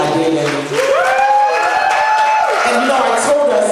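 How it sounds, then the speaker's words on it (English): Audience applause for a speaker at a Moms & Me January event, a short burst of crowd clapping and cheering with whoops rising over a voice that continues talking throughout. "let's give a round of applause to Dr."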